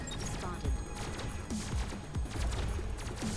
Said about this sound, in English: burst firing with these tiny little lasers